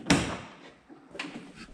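A Ford Capri XPack 2.9 Cosworth twin-turbo's steel door swings shut with one loud, close thud, followed by a softer second knock and rattle about a second later.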